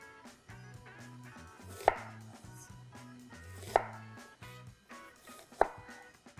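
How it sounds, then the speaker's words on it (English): A 9-inch New West KnifeWorks chef knife slices an onion into half moons: three sharp, evenly spaced knife thuds on a board, close and clear over soft background music. "So with this onion, I'm going to cut against the grain of the onion, against these nice guidelines to create half moons."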